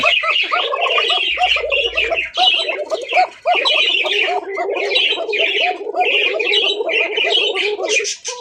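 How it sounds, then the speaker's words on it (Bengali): Lahori pigeons at a wholesale pigeon market call and squawk nonstop, a crowded, close chorus of overlapping coos and harsh bursts. "একদম ফ্রেশ কন্ডিশনের লাহোরি কবুতর"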